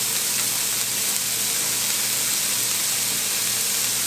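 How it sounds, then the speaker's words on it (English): Bacon and onion frying together in a pan, a loud, continuous close-up hiss and sizzle that holds steady throughout without any talk. "And all we're going to do with this is cook this down until the bacon is lightly golden."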